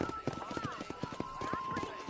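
Horse hooves clip-clop in Red Dead Redemption, a quick run of distinct hoof strikes at moderate distance beneath a character's voice.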